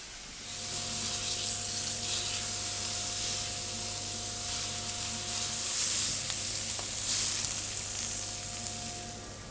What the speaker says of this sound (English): we're going to cook this in a really hot pan for 2 to 3 minutes either side